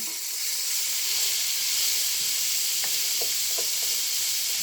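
Carrots sizzle in a hot pan with garlic and olive oil, a steady bright frying hiss throughout with a few faint clicks and pops of stirring toward the end.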